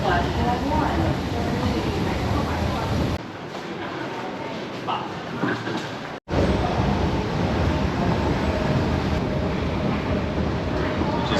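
Steady loud roar of a Guangzhou subway train running underground, a continuous rumble with a brief drop partway through and a sharp cut before the noise returns at full strength.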